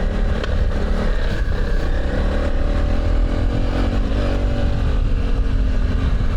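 A low-powered trail motorcycle engine drones steadily while being ridden on the Yorkshire trail, loud and close with a rough, throbbing hum and some rattling, no talk over it.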